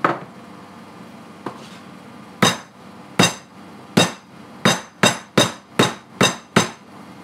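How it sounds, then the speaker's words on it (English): A meat hammer pounds chicken breasts for schnitzel, striking through a glass or thick-bottomed covering: one faint tap, then about ten sharp, loud blows in a fairly steady rhythm. "Just doing the chicken cutting and bashing station."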